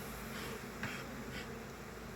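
Honey bees buzz steadily around an open hive frame, a dense continuous drone close by with faint passing swells and no talk.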